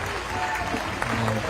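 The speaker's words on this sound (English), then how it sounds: "Taylor Heron, or Tahira Heron rather, applauded off." A stadium crowd at a women's League Cup match, Brighton v Charlton Athletic, applauds a substituted player off the pitch: steady, dense clapping from a distance, with a commentator's voice over it.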